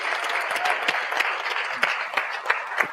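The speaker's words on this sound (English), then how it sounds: "Let's give them another round of applause." An audience applauds at a TEDx talk on psychodrama as a psychotherapy method, steady dense clapping filling the room with a few louder individual claps standing out.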